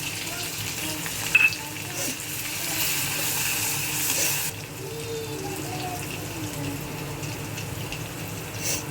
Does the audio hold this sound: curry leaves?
yes